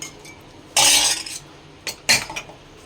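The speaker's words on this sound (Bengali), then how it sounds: "দিয়ে একটু নেড়ে দিলাম চাটা" A spoon stirs tea in a cup, giving two short bursts of bright metallic clinking and scraping, close by, separated by a quiet pause.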